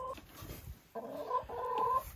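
Hens cluck softly in a coop, giving a few short, close, moderately quiet calls with a brief pause between them.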